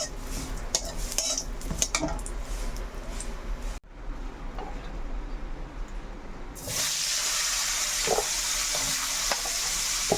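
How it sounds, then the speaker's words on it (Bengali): Vegetables and lentil dumplings fry in a pan with a close sizzle, broken by utensil scrapes and clinks as they are stirred, ending in a louder, brighter hiss. "বড়িগুলো আমি ভালো করে ভেজে নেব"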